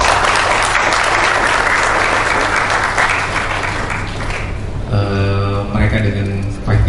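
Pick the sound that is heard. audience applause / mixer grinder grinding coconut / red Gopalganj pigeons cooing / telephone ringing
audience applause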